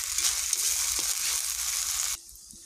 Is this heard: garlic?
yes